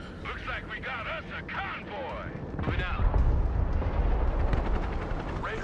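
Iskander missile strikes in the video game Broken Arrow land as a deep, rumbling explosion that swells halfway through and lingers. A voice talks over the earlier part.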